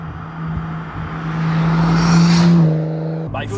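Nissan Skyline GTS-T with a turbo engine revving near the microphone, the note rising and then cutting off into a short sharp hissing blow-off 'pchit' release near the end, with talk alongside.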